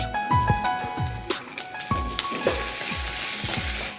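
Mustard seeds, cumin, urad dal and curry leaves sizzle and crackle in hot oil for a carrot chutney tempering, a steady close fry with repeated sharp pops and spatters throughout.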